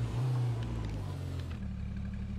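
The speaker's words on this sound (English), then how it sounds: "I'm just driving in a straight line" Car in the H1Z1 survival game cruising in a straight line, a steady low engine drone with rumbling road noise, held at constant volume throughout with no talking.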